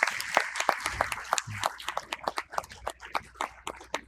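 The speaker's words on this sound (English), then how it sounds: "a good, huge round of applause for our country again" A conference audience at a medical institute session gives a round of applause, scattered hand claps pattering unevenly and thinning toward the end, moderately distant in a hall.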